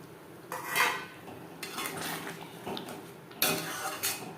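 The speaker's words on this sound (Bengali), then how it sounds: "গ্রেভির সাথে আলু পনির বেশ ভালো করে মিক্স করে দেব" A spoon scrapes and clinks against a pan as fried paneer and potato pieces are stirred into gravy for a vegetarian paneer curry, with intermittent scraping strokes at close range and a louder clatter near the end.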